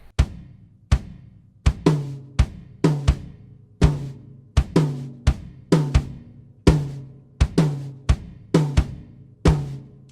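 A drum kit plays a repeating triplet groove, sharp hits with booming low drums in a steady lilting rhythm, close and loud with no other sounds.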